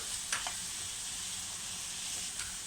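Cumin, black pepper and chili flakes roasting in oil in a pan for aubergine gözleme, a soft continuous sizzle with a couple of brief stirring scrapes, fairly quiet and close.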